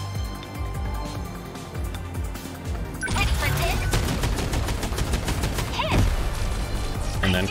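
Rapid gunfire in 13 Sentinels Aegis Rim aims at an incoming missile, a dense, loud burst of repeated shots that starts about halfway through and runs on.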